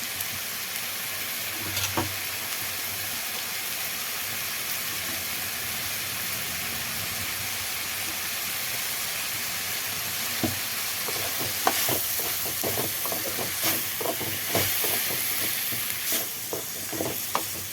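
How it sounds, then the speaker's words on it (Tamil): Ground vallarai (pennywort) greens go into a pan of frying tomato and onion, giving a steady close sizzle and hiss, with scattered scraping stirs growing more frequent toward the end. "இப்போ நான் அரைஞ்சி வச்சுருக்கிற வல்லாரைக்கீரையை போடுறேன்"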